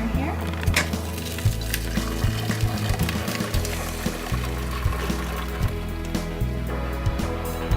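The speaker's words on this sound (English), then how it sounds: "now we're going to pour it into our strainer here." Horchata pours from a blender into a cheesecloth-lined strainer, a soft continuous liquid stream with faint splashes under steady background music and occasional voice.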